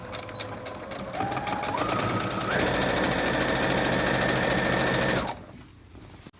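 A sewing machine hems cotton fabric for a ring sling. The motor ramps up in speed over the first seconds, holds a loud, even, close whir, then cuts off abruptly, leaving a quiet room.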